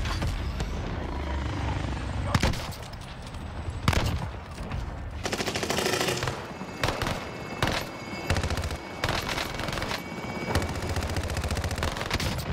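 Rapid automatic PPSh submachine-gun fire in Call of Duty: Vanguard, loud repeated bursts of varying length against a constant backdrop of game battle noise, with faint voices now and then.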